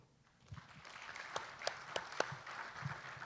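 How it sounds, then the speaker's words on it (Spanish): Audience at a lecture hall conference gives applause to welcome the keynote speaker, starting sparse and then swelling into scattered, fairly quiet clapping with a few sharp individual claps standing out. "le damos un aplauso,"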